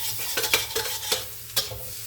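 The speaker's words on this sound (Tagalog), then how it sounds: "Gigisahin ko na sa garlic guys. Hanggang maging brown siya." Garlic sautés in a pan, a soft continuous sizzle punctuated by several sharp scrapes and taps of a utensil stirring against the metal.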